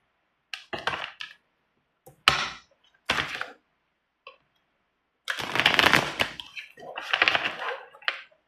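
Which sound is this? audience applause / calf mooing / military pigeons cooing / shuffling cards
shuffling cards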